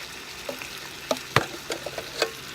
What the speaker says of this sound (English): Bacon. Just gonna put it down in there. Let them kind of start frying.